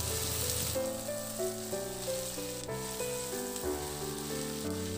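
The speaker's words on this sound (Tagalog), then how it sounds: "Ihalo lang din hanggang sa maluto yung kamatis at maglabas talaga siya ng kulay niya." Onion and tomato sauté in a pan with a steady sizzle and frying hiss, partly masked by continuous background music throughout.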